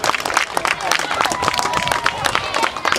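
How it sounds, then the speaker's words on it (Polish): A stadium crowd at an American football game applauds the defense, with loud, dense clapping and cheering that stays steady throughout, mixed with shouts and general crowd noise. "Brawa, wielkie brawa dla naszych defensorów."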